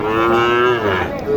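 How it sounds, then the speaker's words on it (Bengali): A cow lets out a loud, drawn-out moo close by at a cattle market at Mataji haat in Naogaon district, a single deep, sustained call. "ভালো খুব চমৎকার একটি গরু"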